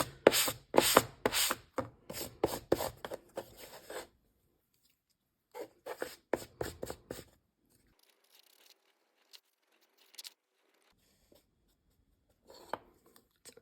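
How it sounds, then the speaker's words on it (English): Dry scratchy rubbing of fine sandpaper on a laser-cut edge in quick bursts of back-and-forth strokes, close and fairly quiet, with pauses between sets and a few faint taps afterward. "take a very fine sanding thingy and just rub it over"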